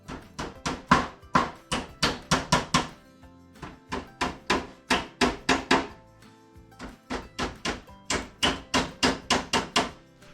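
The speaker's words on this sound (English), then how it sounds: "hold that board up to it and just bump it with my hand" Rapid bursts of hollow knocks as a board is bumped by hand onto nails on a storage cabinet, several taps per burst, close and repeated throughout.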